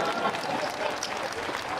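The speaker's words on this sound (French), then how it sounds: "Mais je croyais que vous allez applaudir pour nous" Audience applause at a political address by a president in Dogbo, Benin, a steady broadband wash of clapping with crowd murmur, fairly loud and continuous through the short stretch.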